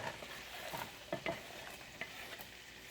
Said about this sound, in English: I've got one stick of unsalted butter because I'm going to add my own salt. And I've got it on medium-high heat. And I'm going to go ahead and just add that onion